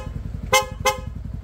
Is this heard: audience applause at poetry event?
no